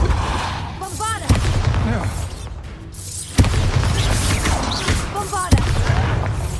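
Bombarda blasting spells go off in Hogwarts Legacy, a few loud booming blasts with sharp onsets roughly every two seconds over a dense rumble of battle noise, with voices shouting between them.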